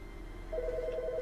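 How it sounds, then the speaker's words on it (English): A telephone rings in The Stanley Parable: Ultra Deluxe video game, a clear rapid electronic trill that starts midway over a steady background hum. "Oh, phone!"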